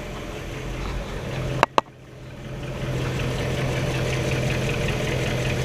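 A 1959 Chevrolet Bel Air's 348 V8 idles steadily and fairly close, with a brief sharp click or pop partway through before the engine's low, even hum returns.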